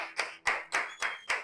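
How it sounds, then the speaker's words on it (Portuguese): A church congregation claps in a steady rhythm, with five crisp, evenly spaced beats and no voices. "Vamos aplaudir ao Senhor."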